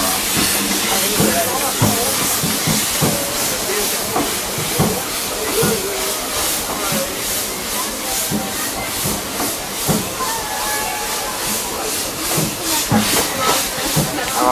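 Vale of Rheidol Railway steam train pulling out of Aberystwyth, with loud steady steam hiss and rhythmic chuffing beats, plus faint rail clatter, close by throughout.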